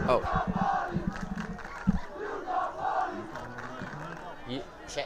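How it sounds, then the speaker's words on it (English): A high school football crowd in the stands chants together, a rhythmic collective roar of many voices rising and falling at a moderate distance, with scattered shouts and noise over it. "Crowd is chanting you got bodied"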